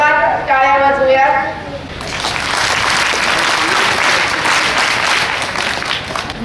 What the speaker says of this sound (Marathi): आपण जोरदार टाळ्या वाजवूयात।